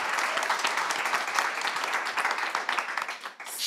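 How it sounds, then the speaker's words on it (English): Audience applause at a community table-topics meeting, dense steady clapping from a room of people over a few seconds, fairly close and even, fading slightly at the end. "Please give them a big old round of applause."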